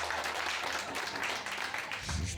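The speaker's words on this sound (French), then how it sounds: "Vous pouvez applaudir." A small audience at a stage show claps in a brisk, uneven patter. The applause is fairly soft and lasts a couple of seconds.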